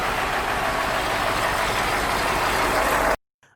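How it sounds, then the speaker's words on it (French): Heavy logging truck roaring by on a rural road in Sanaga-Maritime, Cameroon, a loud, steady broadband engine-and-road rumble that cuts off abruptly near the end. "Nous manquerons d'ailleurs de peu de nous faire écraser par l'un de ces camions."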